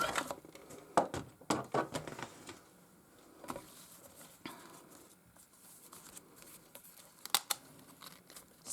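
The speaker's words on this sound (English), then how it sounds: "Just want to rub this really good on that glue that I just put on that flap of that envelope there" A glued envelope flap is rubbed down by hand, giving close, irregular papery rustles, crinkles and scraping strokes that come in bursts, then quieten before a final sharp crinkle.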